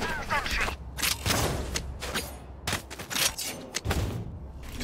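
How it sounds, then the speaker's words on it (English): Gunfire in the Valorant video game, repeated sharp shots and bursts in quick succession, loud and punchy with brief gaps between volleys. "Making way too many body shots instead of headshots."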